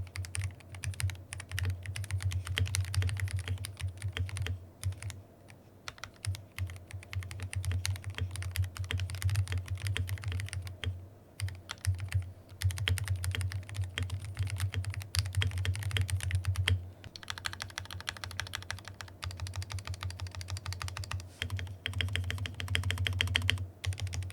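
Rapid, continuous typing on a Qeeke KR-081 pre-built mechanical keyboard, smooth clacky keystrokes with stabilized keys, close and steady with brief pauses, no talk.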